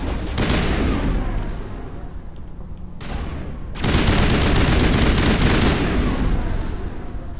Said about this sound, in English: He's literally shooting us from a little hidey hole